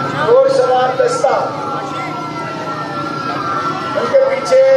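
Rescue 1122 ambulances roll through an Independence Day parade in Faisalabad, Pakistan, their sirens wailing in rising and falling tones over steady crowd and engine noise.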